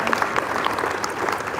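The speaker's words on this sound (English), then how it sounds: "come on, clap" Audience clapping at a GText Holdings business event in a hotel hall, a steady dense patter of many hands that runs the whole time with some speech-like sounds mixed in.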